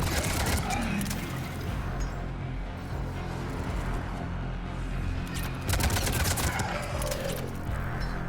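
Video game gunfire: rapid bursts of sharp shots crackle in clusters across the clip, fairly close and loud, with battle noise and a faint voice underneath.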